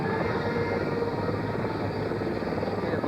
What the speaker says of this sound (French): Un hélicoptère Puma transporteur et 3 gazelles de la brigade aéromobile se rendent au large des côtes